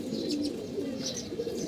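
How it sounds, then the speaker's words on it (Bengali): A racing pigeon kept for paired breeding coos softly and repeatedly up close, with a rolling, throaty rhythm and light chirps mixed into a quiet background. "এই যে কবুতর দেখতে পাচ্ছেন"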